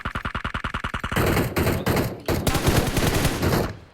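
Rapid automatic gunfire in the game PUBG Mobile, opening with an evenly spaced rattle of single shots, then dense, loud overlapping bursts that briefly pause and resume before cutting off.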